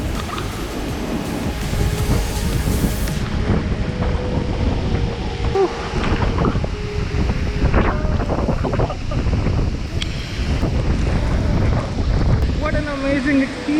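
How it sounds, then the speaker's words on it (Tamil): Roar of a large hidden waterfall near Kodaikanal, a loud, continuous rushing thunder of water mixed with heavy wind buffeting the microphone, unbroken across the whole span with a faint voice. "ஏன்னா அவ்வளோ லவுடாக இருக்குது ஃபால்ஸோட நாய்ஸு"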